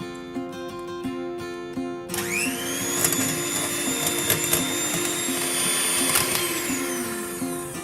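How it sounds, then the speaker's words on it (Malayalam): Electric whisk whipping cream with milk for tender coconut ice cream starts abruptly after a quieter hum, then whines steadily and loudly with a rising pitch as the mixer spins up, close and without talk. "പീക്സ് ആകുന്നിടം വരെ നമുക്ക് വിപ്പ് ചെയ്യാം"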